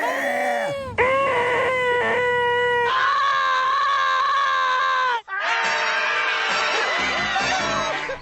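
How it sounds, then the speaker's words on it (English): Pained human-sounding cries from E.T. as he takes hits in the PS1 game E.T. Interplanetary Mission: several loud, drawn-out voiced screams, one after another, with a brief break between them. "when E.T. gets hit, he makes a normal human sound"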